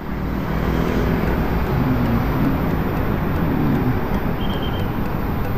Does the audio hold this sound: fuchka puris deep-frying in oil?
no